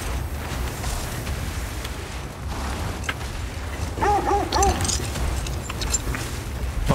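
Sled dogs in the video game God of War Ragnarok give a few short yips and whines midway, over a steady rumbling game soundscape with constant background noise.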